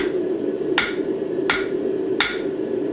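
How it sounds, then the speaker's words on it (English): A hammer strikes hot steel while forging a pair of tongs, landing three sharp, evenly spaced blows about a second apart over a steady low background hum. "I got to be really careful when I am using the hammer here"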